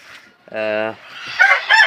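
Close by, a rooster gives a short crow in a farm yard of Sonali chickens kept for eggs, followed by hens' quick, loud clucks and squawks.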